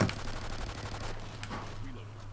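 Gunfire in the video game Call of Duty, a steady stream of shots under a constant game soundtrack, with a few sharper bursts standing out near the middle.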